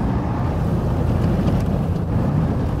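Truck engine in the MudRunner game grinding through deep mud, a steady loud low rumble and churning drone with no break, close and continuous.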